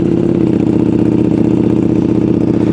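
A Ducati motorcycle engine idles loudly and close up while warming up, a fast, throbbing low rumble that stays steady throughout with no other sounds.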